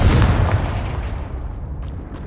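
A blasting spell explodes in Hogwarts Legacy, a loud close boom at the start whose rumble decays and fades over the next two seconds.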